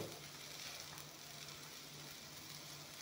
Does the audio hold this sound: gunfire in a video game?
no